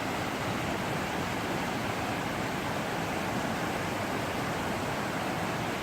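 Loud, steady rush of the Eno River in North Carolina flowing, a constant broadband roar close by, with no talking over it.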